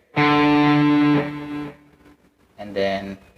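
Two distorted electric guitar power chords ring out in a beginner tutorial, the first loud and sustained for over a second, the second shorter and quieter after a pause, with no talk over them.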